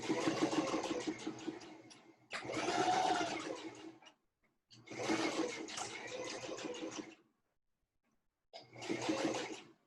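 A sewing machine stitches log cabin quilt blocks in four separate runs, each a steady mechanical whir lasting one to two seconds, with short pauses between bursts.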